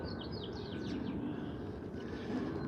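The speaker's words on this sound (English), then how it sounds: "Birds." Birds chirp outdoors near the water, a few quick high twitters early on, fairly faint over a rumbling wind and engine-like background.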